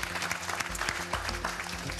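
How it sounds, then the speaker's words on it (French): A TV quiz show audience claps for Sylvain in a short, steady burst of applause with a background music bed running underneath. "On applaudit Sylvain, très malin."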